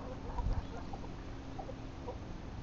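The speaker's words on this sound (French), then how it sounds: "Ça, comme vous l'aurez pas remarqué, c'est une poule." A hen clucks softly a few times, low and near, with a brief louder rustle at the start against faint background noise.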